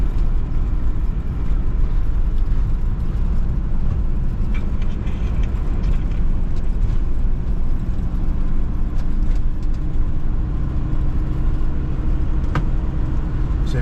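Car engine droning steadily while driving coastal back roads along Scotland's NC500 north coast, a continuous loud rumble with road noise and no pauses.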